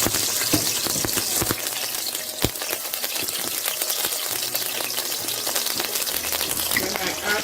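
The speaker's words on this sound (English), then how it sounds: "Then I add my blended onions and pepper." Blended onions and pepper sizzle and crackle in hot palm oil, a steady close hiss broken by sharp pops and spatters, with faint voices in the background.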